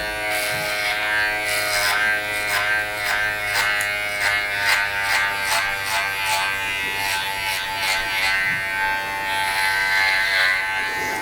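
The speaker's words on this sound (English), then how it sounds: "Now I'm doing the 2 all the way from the bottom because obviously there's so much length there" Electric hair clippers fitted with a number 2 guard buzz continuously while cutting long hair short, a close, steady tonal hum with faint rhythmic flickers as strokes pass through the hair.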